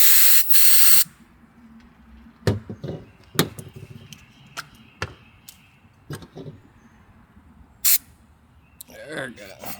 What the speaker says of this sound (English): I'm just going to clean it with some brake clean.